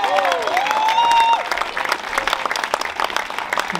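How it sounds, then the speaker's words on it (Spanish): A crowd at the Oaxaca by the Sea 2022 gathering claps for Mayor Ian Oglesby, the applause loose and scattered, with a bright whistle-like tone rising over it at the start before fading away. "Y un aplauso en especial para el alcalde Ian Oglesby también"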